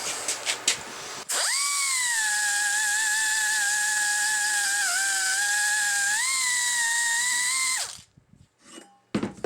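A powered deburring tool clears burrs from the inside of a machined lower control arm for a kingpin Z-drop, giving a loud, steady high-pitched whine for about seven seconds that dips slightly in pitch midway before cutting off abruptly, with no talk.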